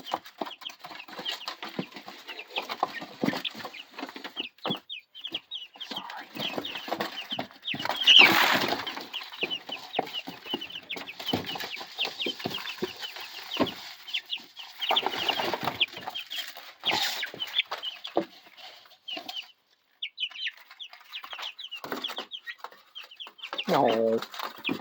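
Chickens in a brooding setup cluck and chatter almost constantly in short irregular bursts at close range, with a few louder squawks, and a person talks to them now and then.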